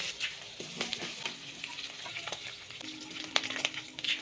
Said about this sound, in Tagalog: unahin natin muna yung sibuyas sa pagigisa